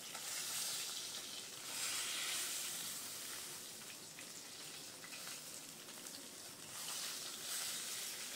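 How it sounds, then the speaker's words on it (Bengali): Rohu fish pieces frying in hot oil, both sides browning for a Bengali fish curry, give a steady broad sizzle that swells and eases in waves, close and moderately loud with no voices. "ভালো করে এপিট ওপিট ভালো করে ভেজে নিলাম মাছটা।"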